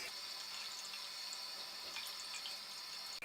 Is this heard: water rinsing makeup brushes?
yes